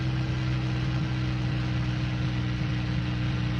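Spitfire Mk I piston aircraft engine in a flight simulator, a steady low droning hum with strong deep tones, moderately quiet and unchanging throughout, no voices.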